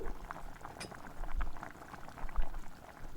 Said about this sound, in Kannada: ನಾವು ಬೇಳೆನ ಕುದಿಲಿಕ್ಕೆ ಬಿಟ್ಟಿದ್ವಲ್ವ ಅದು ಕೂಡ ಕುದಿ ಬಂದಿದೆ